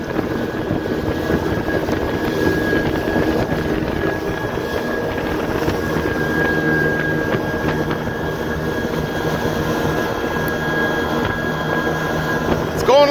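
Boston Whaler skiff with a 115 turbojet outboard running at high RPM, a steady, loud droning whine with wind and water rush and a constant engine hum throughout.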